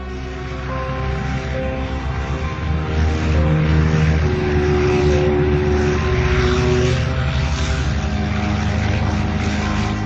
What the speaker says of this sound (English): Admiral Byrd's aircraft flew 500 feet above the geographic South Pole